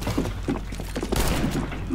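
Rapid bursts of pistol gunfire in the video game CS:GO crackle through the whole stretch, sharp repeated shots with a fuller volley near the middle, no voices over it.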